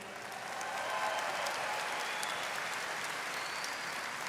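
An audience at a Miss Universe preliminary competition in El Salvador applauds the selection committee, giving a steady, dense wash of clapping that holds evenly throughout.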